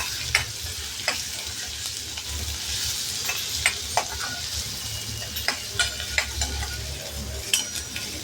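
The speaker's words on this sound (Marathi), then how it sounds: "कांदा छान परतून घ्यायचा" Onions sautéing in oil in a pan with crushed garlic, a steady close sizzle broken by repeated sharp scrapes and clicks of a stirring spoon, with no talking.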